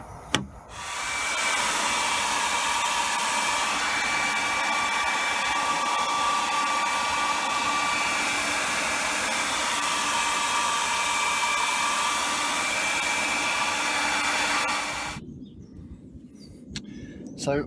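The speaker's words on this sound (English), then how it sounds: "I'm going to start by warming up the panel just using a general hairdryer" A household hairdryer blows steadily for about fourteen seconds while warming a dented car panel for paintless dent repair, a loud, even whooshing hum with a faint whine, cutting off near the end, followed by brief quiet.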